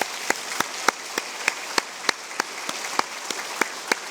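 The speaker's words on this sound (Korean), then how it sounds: "박수 한번 하겠습니다." A church congregation applauds together in a hall, a broad steady patter of many hands with sharper individual claps popping out at regular intervals, fairly close and with no voices over it.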